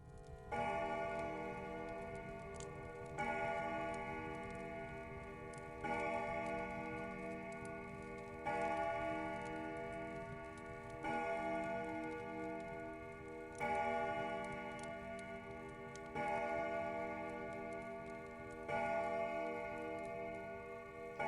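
A clock ticks in an even, slow rhythm of about one beat every two and a half seconds, each beat set against sustained ringing tones at a moderate, steady level.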